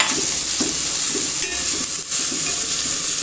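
Onions and grated carrot sauté in a pan with a loud, continuous sizzling hiss and rhythmic stirring strokes close by, with no voices.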